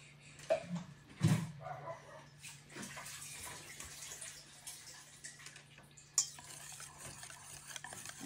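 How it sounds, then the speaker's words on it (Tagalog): A spoon stirs a mixture of chopped pineapple, cream and milk in a bowl, making soft wet swishes and sloshes with a few sharper clinks against the bowl, alongside a low steady hum. "tapos pag-halo-haloin po natin yan guys para mag-mix po lahat-lahat po ng binila rin po natin pineapple"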